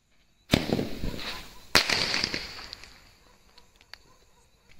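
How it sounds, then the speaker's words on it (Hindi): A seven-shot Diwali firecracker fires two loud, sharp blasts a second apart, close by, each leaving a crackling tail. Fainter pops follow as the noise dies away, with no talking. "ये नया पटाखा था, सेवन शॉट पटाखा था"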